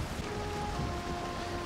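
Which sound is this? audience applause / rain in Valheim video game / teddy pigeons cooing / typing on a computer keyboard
rain in Valheim video game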